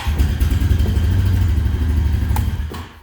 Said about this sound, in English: The quad will start.